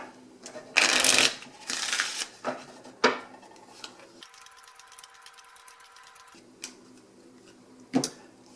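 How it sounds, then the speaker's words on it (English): Playing cards dealt face down for the Pie Thief board game, a burst of quick riffling shuffles followed by scattered light card snaps and slides on a table, close and alone with a steady hum in the middle. "we dealt 5 cards face down to each player"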